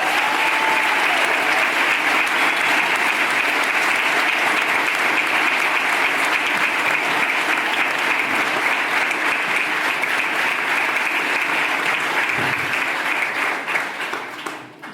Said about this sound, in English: Can we have a round of applause for this kitchen?